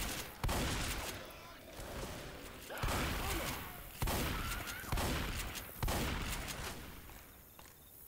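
Repeated heavy shotgun blasts in Left 4 Dead 2, booming shots spaced a second or so apart with a dense, noisy mix between them.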